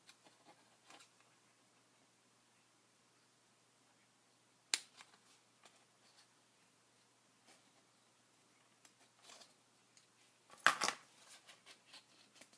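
Scissors cutting a small divot out of card for an expanding box card, giving a few faint, sparse snips and clicks in a quiet room, one sharper snip near the middle and a short cluster of cuts near the end.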